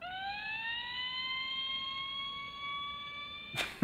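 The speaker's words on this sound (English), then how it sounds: "If you pitch it down two octaves, it sounds just like the sirens" A long, steady tone slowly rising in pitch, a dolphin call pitched down two octaves to sound like a siren's wail, ending with a short clattering knock.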